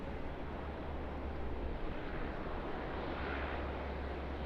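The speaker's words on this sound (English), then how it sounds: "Singapore Airbus A380." A Singapore Airlines Airbus A380 at Sydney Airport gives a steady, broad jet roar that stays constant and fairly distant, with no voices.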